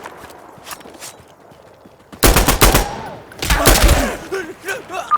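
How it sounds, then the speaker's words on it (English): Gunfire in the video game Insurgency: Sandstorm, loud bursts of rapid automatic fire close by with scattered single shots, plus faint in-game voices. "Stop shooting!"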